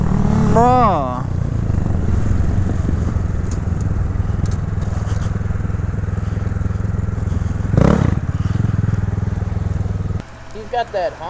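A Honda motorcycle engine runs loudly nearby with a steady deep rumble and a sharp revving burst partway through, cutting out near the end, while people talk over it.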